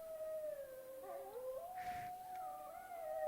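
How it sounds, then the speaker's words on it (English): Wolves howl in the distance beside a Quebec salmon river, one long wavering howl rising and falling with fainter overlapping voices, heard faintly over a soft background hiss. "Wolves howling."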